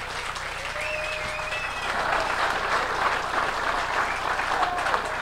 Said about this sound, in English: A big round of applause for Chris.